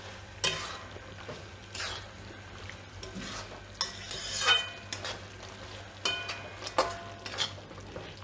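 Dry fruits and grated coconut are stirred into sugar syrup in a pot, with intermittent spoon scrapes and soft sticky stirring sounds recurring every second or so, close and fairly quiet.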